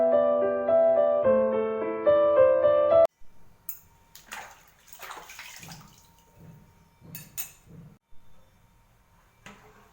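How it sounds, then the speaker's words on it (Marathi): An oil kettle being washed in water, with splashing and dripping sounds in irregular bursts after a short stretch of tonal music, close and moderately loud. "किटली धुवून घेते"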